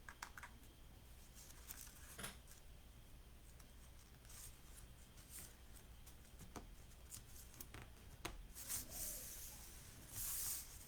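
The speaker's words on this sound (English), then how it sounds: "you hear that clicking? I love that clicking sound." Small magnetic album clicking as it is handled during paper crafting for a Christmas organizer, a scatter of light ticks and taps across the stretch, with brief rustling and hissy scraping near the end.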